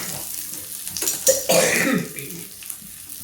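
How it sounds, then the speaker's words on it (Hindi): Onion sizzles in hot oil in a kadhai, a soft brief crackle rising mid-clip amid a cough-like burst and faint handling noises. "ये प्याज डालेंगे, इसको बिल्कुल ब्राउन ब्राउन सा भूनेंगे इसको।"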